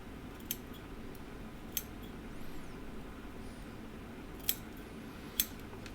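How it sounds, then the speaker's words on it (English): Large scissors snip baitfish fly-tying material in a few sharp, isolated cuts, faint and close over a low steady background hum. "I use a large scissor, snip from inside, from the underside,"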